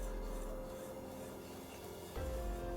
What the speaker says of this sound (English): Now just whisk this up until everything's well combined